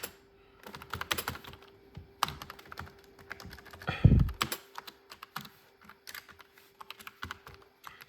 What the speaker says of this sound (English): Sorry about the painfully slow typing.